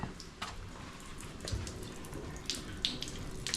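Water trickles and drips from the water inlet of a 1976 Pontiac Firebird's 350 engine sitting on a stand, with faint irregular splashes and drips over a low background hiss.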